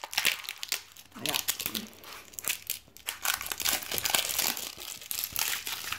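Plastic packaging on an owl diamond painting kit is pulled open by hand without scissors, giving loud, close crinkling, crackling and tearing in irregular bursts, with a voice now and then between them.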